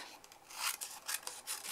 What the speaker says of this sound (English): just simply cut around the shape